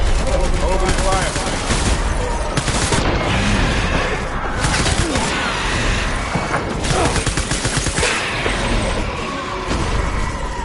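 Sustained gunfire and mechanical clatter in the game Death Stranding on PS4 Pro, loud and dense with repeated bursts, booms and crashes over about ten seconds, with voices talking in places.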